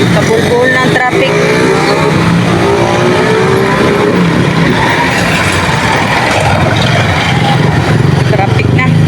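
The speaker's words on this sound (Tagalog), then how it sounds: "Traffic na." Dense street traffic with cars and motorcycles passing and revving, a loud continuous engine roar with rising and falling motor tones, while people talk over it.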